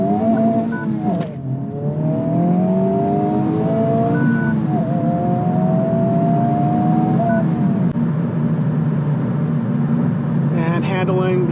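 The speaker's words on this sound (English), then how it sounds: "all right, acceleration." A Honda Civic Type R FL5 pulling hard from inside the cabin, the engine note climbing in rising sweeps through several gear changes, loud and steady, with a voice briefly at the end.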